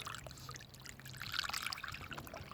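Water poured to top up a cat's water dish, a soft, quiet trickle and splash running steadily for a couple of seconds with no talking.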